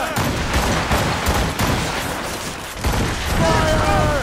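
Cannon blasts and gunfire in the Assassin's Creed Rogue game, a loud, dense barrage of repeated booms and shots with voices shouting over the fighting.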